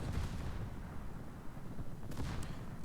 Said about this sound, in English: Now we're actually going to turn our guns on the Yoshino